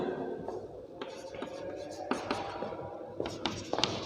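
A pen writes out a math solution by hand, with scratchy strokes and small taps in irregular bursts, close and fairly quiet, under faint low murmuring speech.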